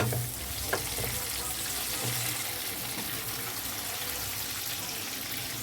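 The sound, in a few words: chopped tomatoes frying with browned onions in pan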